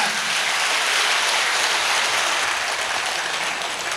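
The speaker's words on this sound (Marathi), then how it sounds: "सगळ्यांनी हात वर करून जोरात जोरात जोरात जोरात जोरात टाळ्या वाजवा" A lecture-hall audience claps loudly and continuously, a dense even wash of applause with no pauses, filling the room for several seconds.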